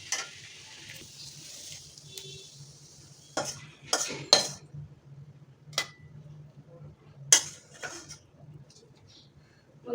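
Fried mixed greens are lifted out of a pan, with several sharp metal clinks and scrapes of utensils against cookware over a faint low hum, the clatter coming in scattered bursts with quiet gaps between.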